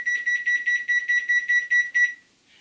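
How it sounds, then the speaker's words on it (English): A kitchen timer beeps during cookie baking: about ten rapid, evenly spaced electronic beeps, bright and fairly loud, before stopping abruptly with a brief faint rustle after. "All right, our timer went off, and let's see how we did."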